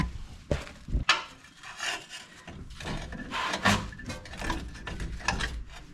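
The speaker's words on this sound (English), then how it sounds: "Now we can pry the lower strut bolts in." Metal lower strut bolts being pried into place on the front suspension of a 2014 Ford F150, close scraping, rubbing and knocking with a few sharp clunks, no talking.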